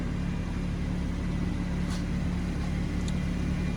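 A BMW M140i Shadow Edition idles steadily, its engine producing a constant low rumble with a faint hum throughout and no revving.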